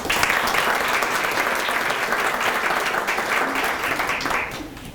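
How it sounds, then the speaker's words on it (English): Steady, full applause from an audience at a school breakfast honoring the valedictorian and salutatorian, greeting the assistant principal and guidance counselor, sustained for several seconds before tapering off at the end. "Let's give them an applause."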